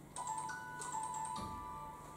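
A mobile phone rings during a talk on ExoMars, its bright electronic melody repeating in two short bursts of tones, clear and fairly close in a quiet room.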